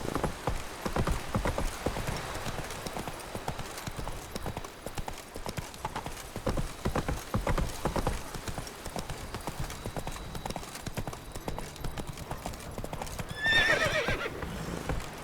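Roach, the horse in The Witcher 3, clip-clops along in a steady rhythmic walk for a long stretch, and near the end a whinny rings out over the hoofbeats.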